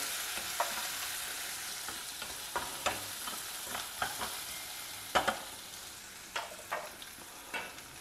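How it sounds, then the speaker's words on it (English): Chopped onion and green chilies fry in a pan under a constant soft sizzle, while a spoon stirs and scrapes in scattered, sharper strokes nearby. "we will add some chopped green chilies, chopped onion, 1 large onion I have chopped, fry it well"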